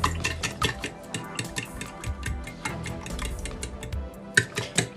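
A spoon mixes milk and sugar in a plate for French toast, making rapid, close metallic clinks and scrapes in an uneven rhythm, with no voices.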